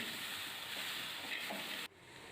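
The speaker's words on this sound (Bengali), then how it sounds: "কাঁচা লঙ্কা এবং টমেটো কুচি দিয়ে ভালো করে নেড়ে নিলাম।" Ginger, green chili and chopped tomato frying and being stirred in a pan, giving a dense, steady hiss that drops abruptly near the end, then resumes more softly, with no voices.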